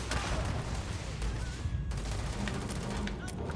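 Dense, continuous gunfire from the video game Starfield crackles throughout, with sharp shots and bursts layered over a busy combat din while someone speaks over the action.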